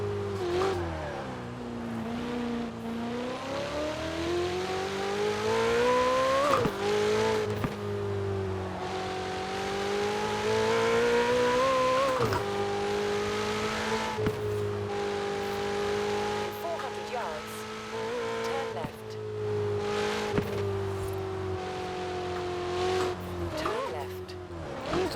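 A Ferrari 488 Pista engine in Forza Horizon 4 heard from the outside, droning steadily with repeated rises and dips in pitch through gear changes, loud and continuous, with occasional tire squeal and someone talking over it.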